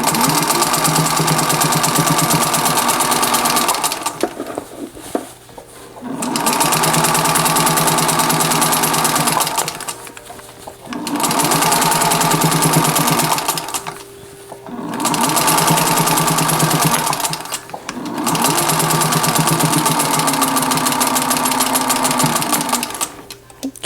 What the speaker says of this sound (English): I'm just going to guide my needle straight down the seam line.